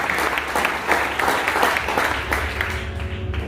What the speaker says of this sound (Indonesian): Tepuk tangan yang meriah buat Ustaz Aziz.